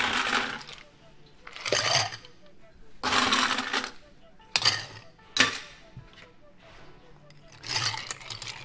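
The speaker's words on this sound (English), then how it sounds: "Fill the glass with ice." Ice cubes dropped into a cocktail glass in several separate bursts of clattering and clinking, close and fairly loud, with quiet gaps between them.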